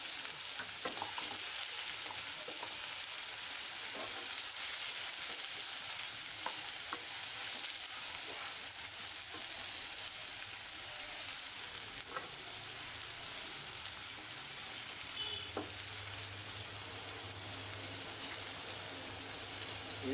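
Onion and curry leaves frying in hot oil for an egg masala, a dense, even crackling sizzle close up, with occasional small pops and a faint stirring clatter throughout.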